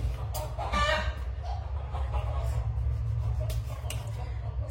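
Chickens clucking and squawking close by over a steady low rumble, with a few sharper calls breaking through.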